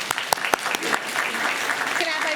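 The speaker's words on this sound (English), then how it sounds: "A round of applause for Reina." A room of people at a school board meeting applauds a person: a few sharp individual claps at the start, then sustained clapping that continues steadily, with some voices mixed in.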